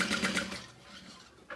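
A sewing machine runs a quarter-inch seam on a wristlet, with a short burst of fast rhythmic stitching that fades into quieter motor hum.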